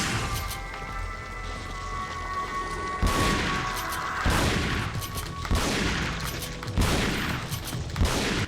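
Repeated shotgun blasts fire in the Resident Evil 4 Separate Ways campaign, several loud booming shots with short gaps between them over constant background game noise.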